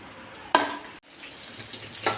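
Eggplant pieces shallow-fry in oil in a pan, giving a steady sizzle with two brief louder bursts of spitting as the pieces are stirred.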